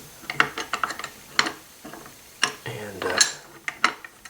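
Metal parts of an SKS rifle click and scrape as the top cover lugs are fitted under the bolt carrier, a series of close, sharp mechanical clacks with a brief spoken word.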